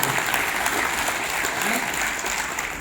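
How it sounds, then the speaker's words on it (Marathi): An audience claps loudly and steadily at a gathering, a dense wash of many hands that continues without a break and fades slightly at the end. "थोडं जोरदार टाळ्या वाजवा"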